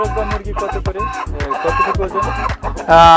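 Roosters and hens cluck loudly and repeatedly at close range, ending with a rooster crowing.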